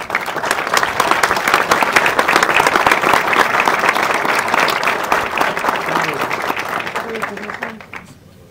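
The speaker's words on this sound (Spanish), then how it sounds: "habremos de recibir con un fuerte aplauso a la empresa Bekemin S.A.D.C.B." Audience at an environmental certificate ceremony gives strong, steady applause for about eight seconds, dense and close, then it fades out.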